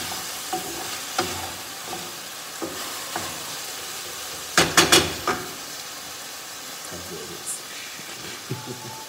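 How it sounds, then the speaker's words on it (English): Chicken breast is stirred in a frying pan, with a soft steady sizzle under occasional spatula scrapes and a short cluster of louder clanks near the middle, close and moderate in level. "I'm still gonna keep stirring this"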